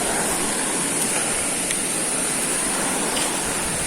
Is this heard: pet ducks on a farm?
no